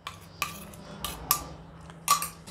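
A spoon clinks against a pot while cornflour and cocoa mixture is stirred into hot milk, four or five sharp metallic taps spaced irregularly over a quiet background.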